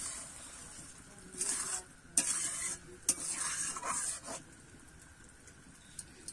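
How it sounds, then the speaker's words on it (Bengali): Spoon stirring palak paneer, spinach curry with paneer cubes, in a pan over the flame: several uneven scraping strokes with a soft sizzle underneath, close by, then a quieter stretch. "একটু নেড়ে দেব।"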